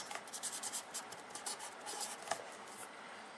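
Pen or pencil scratches steadily on paper as a math solution is rewritten by hand. The strokes are soft and close, with a rapid scribbling rhythm and a brief tap partway through.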